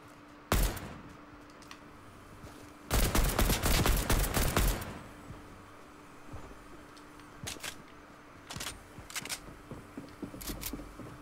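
Shotgun fire in Fortnite: a single sharp blast, then a dense rapid volley of shots, followed by scattered isolated reports and softer clicks against a quiet background.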